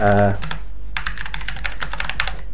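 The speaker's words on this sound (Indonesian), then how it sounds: "kalau misalkan kita menggunakan GX Blue Clicky ini, suara dari keyboard itu akan sangat nyaring" Rapid typing on a Logitech G512 keyboard with GX Blue clicky switches, a dense run of sharp, loud, close-up clicks in quick irregular rhythm.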